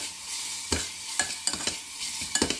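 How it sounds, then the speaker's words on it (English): Onion frying with garlic paste in a pan gives a steady, bright sizzle close by, broken by several sharp scraping stirs of a utensil, with no voices. "And that's what we're gonna start cooking our onion."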